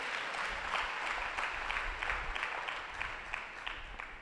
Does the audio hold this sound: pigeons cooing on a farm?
no